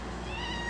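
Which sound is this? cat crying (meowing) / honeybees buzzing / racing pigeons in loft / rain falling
cat crying (meowing)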